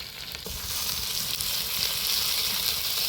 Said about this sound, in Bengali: বেশি ছাড়া ফোড়ন আর গোটা জিরে, কেটে রাখা পেঁয়াজ লঙ্কাটা দিয়ে দিব। অল্প একটু আদা বাটা দিব।